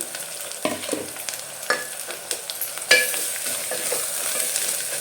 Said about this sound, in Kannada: ಸ್ವಲ್ಪ ಚೆನ್ನಾಗಿ ಫ್ರೈ ಮಾಡಿ